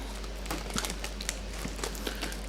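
Plastic packaging around a Star Wars The Force Awakens Blu-ray steelbook crinkles and rustles as it is unwrapped, soft close crackling with a few sharper snaps.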